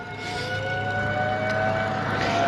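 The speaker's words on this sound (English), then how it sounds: "High noon siren town next to me still does it." A town's civil defense siren sounds its daily noon test, a loud, steady sustained wail that holds its pitch throughout with nothing else over it.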